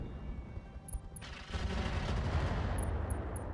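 Mech weapons fire at a Thunderbolt mech in the game Roguetech BattleTech, with a quick burst of rapid gunfire that swells into a sustained, dense barrage of booming shots, heard at moderate level with no speech.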